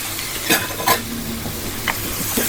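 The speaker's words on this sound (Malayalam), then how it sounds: "ഇത് ക്യാരറ്റാണ് ചെറുതാക്കി അരിഞ്ഞത് നല്ലോണം അങ്ങോട്ട് മിക്സ് ചെയ്യുക" Chopped carrot, potato and curry spices get stirred in a pan for a mixed vegetable curry, a steady close sizzle broken by a few scraping strokes of a spoon against the pan.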